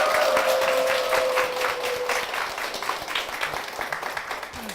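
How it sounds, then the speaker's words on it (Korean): A church congregation at Pureun Sarang Church applauds warmly, a dense, sustained wash of many hands clapping that stays steady and full, with a faint voice briefly audible at the start. "박수로 맞아주십시오"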